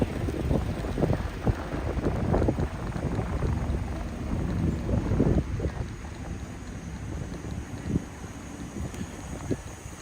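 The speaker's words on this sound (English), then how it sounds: "Getting more windy." Steady wind buffets the microphone in low gusty rumbles on a Kyoto street, with a continuous rushing roar throughout and no voices.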